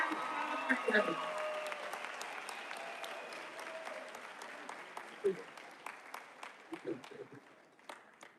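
A graduation crowd applauds loudly, then the clapping thins out into scattered claps as it fades. Faint voices can be heard beneath it.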